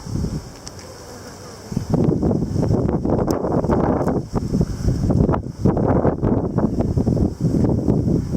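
Steady wind gusts buffet the microphone at an open beehive, a broad low rumble running throughout, with faint bee buzzing and rustling on top.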